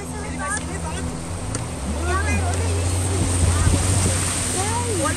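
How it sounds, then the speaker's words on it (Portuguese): Floodwater rushing down a street during a storm after cars nearly got swept away, a loud continuous roaring wash with a low rumble beneath and people talking over it. "Olha essa água toda descendo."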